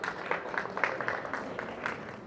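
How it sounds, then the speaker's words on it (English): Audience applause at the City of Baker State of the City Address, a steady patter of many hands clapping throughout, moderately loud and continuous with no voices over it. "Give yourselves a round of applause."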